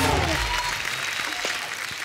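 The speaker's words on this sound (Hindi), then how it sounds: "इनके लिए जोरदार ताली हो जाए।" Brief burst of crowd applause for a guest, a dense wash of clapping hands at moderate level that starts strong and thins slightly over two seconds.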